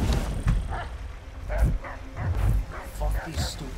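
Dogs bark and yip in Assassin's Creed III, several short barks spread irregularly through the stretch, moderately loud among other game sounds.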